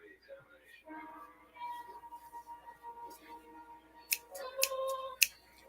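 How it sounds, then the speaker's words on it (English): Left-handed scissors are handled, giving several crisp metallic snips and clicks near the end, heard under a voice speaking close by. "My left-handed scissors, man."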